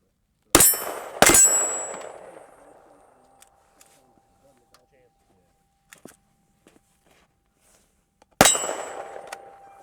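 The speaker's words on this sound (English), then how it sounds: "That is the weirdest gong I've ever heard." Struck steel gong target on a shooting range, three sharp metallic clangs, two in quick succession then one several seconds later, each ringing out with a long tuning-fork-like decay, separated by faint small ticks and near silence.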